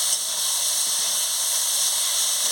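A pan of mustard-paste curry gives off a steady, loud, even hiss as a little water is added and stirred in, continuous from start to finish with no talk.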